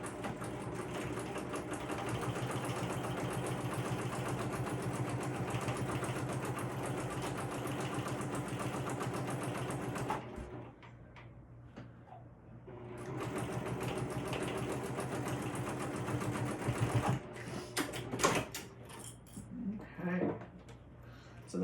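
A sewing machine bastes fabric for a crossbody bag in long, steady runs of close, even stitching, pausing briefly before starting again and ending with handling clatter.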